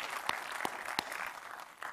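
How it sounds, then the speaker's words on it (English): Audience applause at a journalism conference, a soft, even patter of clapping from the crowd, punctuated by a few sharper, closer claps standing out early on. "And let's clap for Jim Maroney"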